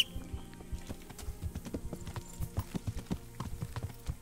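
Horse hooves clopping in Kingdom Come: Deliverance, a quick irregular series of close, distinct thuds as the horse struggles stuck in terrain, with a faint whinny-like tone underneath.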